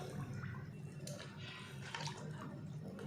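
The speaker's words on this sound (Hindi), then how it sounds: "2 कप पानी का ऐड कर देंगे।" Water poured from a cup into a pot of sugar while making custard powder halwa, a soft splashing trickle with drips, close by and moderately quiet.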